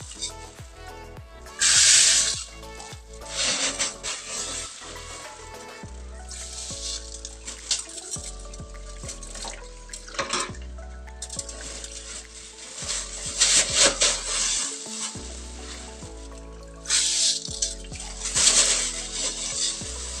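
Glutinous rice for suman is washed by hand in water, with close splashing, swishing and rubbing of grains, plus occasional knocks of the bowl, steady and fairly loud with no speech.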